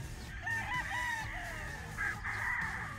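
A Golden Boy gamefowl rooster with a rose comb crows loudly and close by, two long drawn-out crows following one another with no talking.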